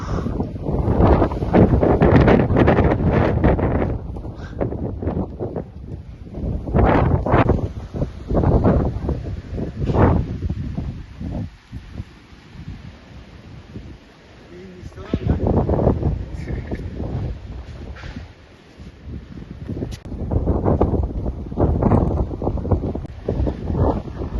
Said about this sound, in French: Petite tempête avec des coups de vent d'un coup.